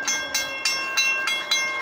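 A Calgary C-Train rolls along the tracks with a regular clickety-clack, wheel thumps repeating about every third of a second over a steady rumble and faint squeal, close by and with no talk.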